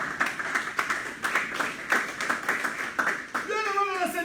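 A church congregation claps in praise of God during a service, a rhythmic run of sharp hand claps at a steady beat, with voices cutting in toward the end.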